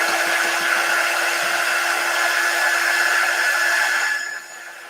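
A hair dryer blows on a chalk paste stencil, a steady loud whirring hum with a constant tone that cuts off near the end.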